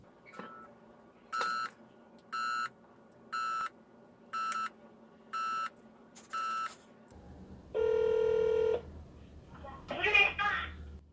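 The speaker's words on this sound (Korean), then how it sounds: "우리 저 햄포터한테 전화를 해보도록 하겠습니다." Telephone dialing tones as a call is placed: six short, evenly spaced beeps, then one longer tone and a brief burst of louder sound, all close and clear with no talking.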